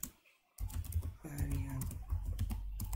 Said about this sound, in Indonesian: kita tekan Ctrl O untuk menyimpan, enter, Ctrl X, kita panggil Python